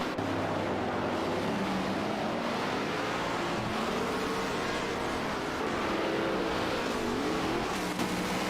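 AI-driven race cars, including a McLaren Elva, lapping a track in a racing video game career mode, their engines droning and shifting pitch in steady, overlapping tones at moderate volume throughout, with no talking.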